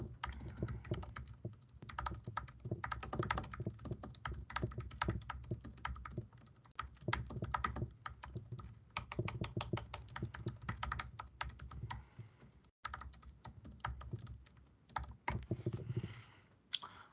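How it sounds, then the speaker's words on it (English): Steady, fast typing on a computer keyboard as a message is entered, with dense close key clicks running almost continuously and only a few brief pauses. "if you would like to add a message by typing in the message box"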